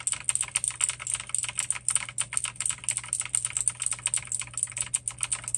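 Kailh clicky mechanical keyboard switches are pressed in rapid, steady succession, giving a dense run of sharp, bright clicks with no pauses. The keyboard is up close and there is no talking.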